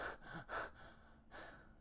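A voice imitates a dog's panting: a few quick, breathy in-and-out gasps through the mouth, faint and close, with no other sound.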